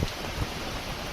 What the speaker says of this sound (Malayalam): ജില്ലയുടെ കിഴക്കൻ മലയോരത്തും കനത്ത കാറ്റും മഴയും അനുഭവപ്പെടുന്നു